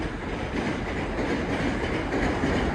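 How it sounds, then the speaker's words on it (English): Steady, loud rumble and clatter of trains rolling past nearby in Osaka between Juso and Nakatsu, continuous throughout with no voices. "Over here, we got trains going by again."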